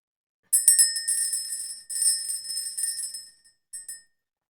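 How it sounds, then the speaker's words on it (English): A small bell, rung to clear the energy during a spiritual card reading, gives a series of bright metallic rings that fade and are struck again, with a couple of quick final taps, loud and close with no talking. "Let's ring the bell. Let's clear the energy"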